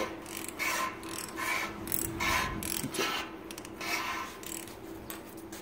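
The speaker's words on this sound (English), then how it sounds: "We're going to spin it around a couple times and see what happens." A cylinder ridge reamer's cutting blade, lubricated with motor oil, is turned inside a bore of a Slant 6 engine, giving a few repeated rasping, scraping strokes of metal on metal, close and steady with no talk.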